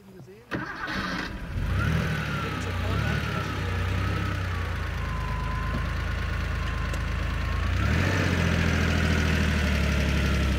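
A 1989 Porsche 911 Turbo Targa engine starts up and settles into a steady, close idle with a deep rumble, briefly swelling in revs near the end.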